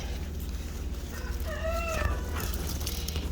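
A rooster in a backyard chicken flock crows once in a wavering call, then clucks softly, heard from a short distance over a steady low background hum.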